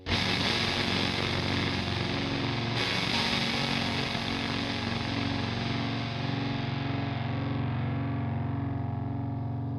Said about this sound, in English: let's hear the real Soldano versus the Ampero 2 NUM profile phase inverted